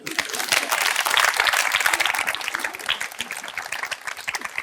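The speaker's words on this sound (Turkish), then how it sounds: "Hadi bakalım bir alkış." A live audience at a talk show on humour in relationships breaks into steady, dense applause throughout, close and fairly loud with a little crowd murmur.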